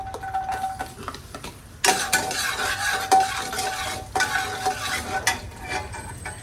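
Garlic drops into preheated oil with a sudden burst of sizzling and frying, accompanied by stirring and utensil clinks against the pan, loud and close, continuing steadily with no talking.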